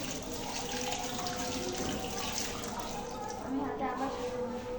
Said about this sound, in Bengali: প্রত্যেকটা আঙুল আমি সুন্দর করে ধুয়ে নেব।